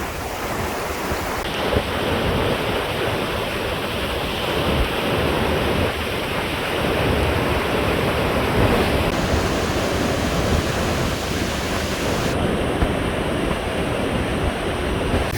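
Waterfall near a main road in Gabral, Swat, with rushing water roaring as a loud, steady, unbroken wash throughout.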